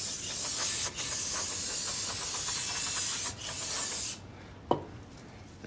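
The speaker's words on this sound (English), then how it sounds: "So we're going to give this another shot of brake clean." An aerosol can of brake cleaner sprays in long, loud, steady hissing bursts onto an oily car part, broken by two short pauses, and then stops.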